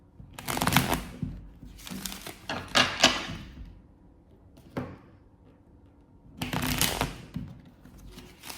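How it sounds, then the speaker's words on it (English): A Kipper card deck is shuffled in several brisk, papery bursts with quiet pauses between them, close and fairly soft, with no talking. "Let's also shuffle the Kipper deck for your warning messages."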